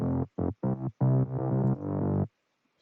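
Synth bass sample from the Silent synthesizer plays a sequence of five short, punchy tones, the last few longer and sustained, then cuts to silence.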